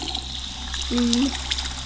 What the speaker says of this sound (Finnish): Mä menen tänne suihkuun, kato mä oon täällä suihkussa.